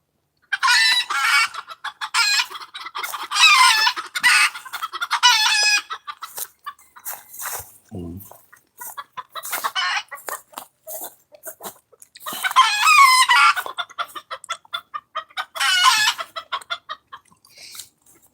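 A flock of hens with a rooster on a farm clucks in bursts of bright, close calls, with one short low sound in the middle and quiet gaps between the clusters.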